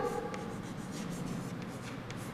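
Pen or chalk writing the subtraction symbol during a math class, a close, soft scratching stroke over low room noise.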